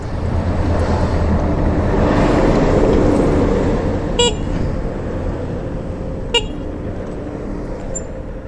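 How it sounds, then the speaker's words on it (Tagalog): Honda TMX 125 motorcycle horn sounding during a registration inspection in Baguio: two short sharp toots over a loud idling and traffic background. "Busina daw ang una."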